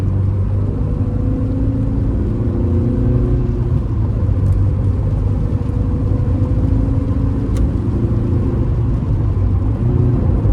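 Steady low engine drone and road rumble from a Volkswagen Golf GTI cruising smoothly on the road, heard from inside the cabin, continuous and fairly loud with no talking.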